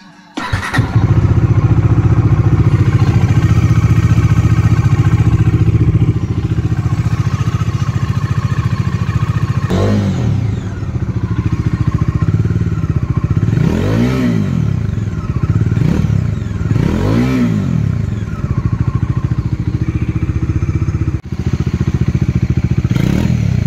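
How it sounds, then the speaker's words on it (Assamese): A Bajaj Dominar 400 motorcycle engine idles loudly and steadily up close, with a few short throttle revs rising and falling partway through. "আপোনালোকে অলপ ইঞ্জিনৰ শব্দ শুনি লওক"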